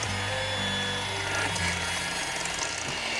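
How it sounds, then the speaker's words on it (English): An electric hand mixer running on low speed, beating a mixture in a bowl for a pumpkin dessert, with a steady motor whir and scraping against the bowl that holds close and constant. "We're going to take a hand mixer."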